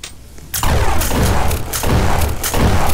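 Shotgun blasts from Roblox Jailbreak, four loud booming shots spaced roughly half a second apart, each with a deep thud and quick decay, with no voices.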